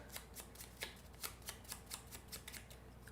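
Weather cards for the board game Ringyō being shuffled, a quick run of soft papery riffles and flicks repeating steadily up close, quiet and alone.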